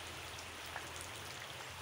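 Steady rain falling during a spell of on-and-off showers, an even, dense hiss of drops hitting surfaces, close and continuous with no voices.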